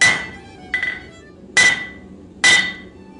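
A hammer strikes a hot mild steel bar on an anvil while forging a viking axe, four sharp ringing blows with pauses between them, loud and close with no talking.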